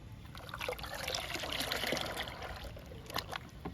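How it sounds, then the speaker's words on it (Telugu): Water poured and stirred together with pumpkin paste to make a liquid plant feed, giving a close, steady trickling and sloshing throughout with no talk. "ఇప్పుడు గుమ్మడికాయ పేస్ట్ని వాటర్ని కలుపుదాము."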